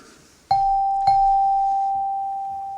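A fire station alarm bell rings twice, two sharp strikes about half a second apart, each leaving a clear sustained ringing tone that slowly fades.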